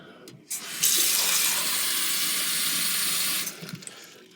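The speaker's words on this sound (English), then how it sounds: "Put some water in there." Water running from a tap into a coffee cup, a brief click then a steady rushing stream for about three seconds before it shuts off with a few drips and clatters.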